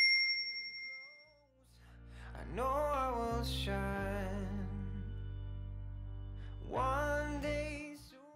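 A notification bell sound effect rings out as several bright, ringing dings with lingering tones, clear and alone, with a short pause between the groups of dings.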